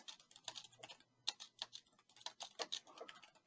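Quick, light keystrokes on a computer keyboard tap out in an irregular rapid patter, close and fairly quiet, with no voices.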